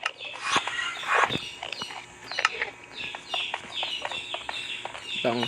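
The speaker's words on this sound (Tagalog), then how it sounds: "Ang ingay ng sisiw ko!" Chicks in a video game peep and chirp repeatedly in short, scattered bursts, fairly faint and close, with a person talking over them.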